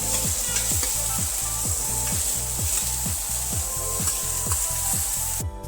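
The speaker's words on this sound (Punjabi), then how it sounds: "ਤਾਂ ਮੈਂ ਆਲੂ ਕੱਚਿਆਂ ਨੂੰ ਆਪਾਂ ਫਰਾਈ ਕਰ ਲਵਾਂਗੇ" Raw potatoes and soya chunks fry in a pan with a constant loud sizzle, while a spatula scrapes and stirs in a regular rhythm of about two strokes per second.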